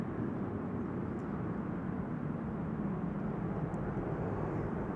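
An airliner landing at Amsterdam Schiphol Airport, a steady low rumbling roar of jet engines that holds evenly throughout without speech.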